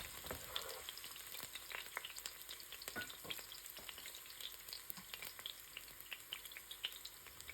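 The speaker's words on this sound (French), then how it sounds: "je vais directement verser nos oignons. Et je vais essayer de bien remuer pour que ça ne crame pas" Chopped onions fry in hot oil for Jollof rice, a steady crackling sizzle with frequent spatters and occasional stirring scrapes, close and continuous throughout.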